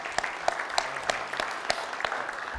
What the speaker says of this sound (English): Could you give him a big round of applause, everybody?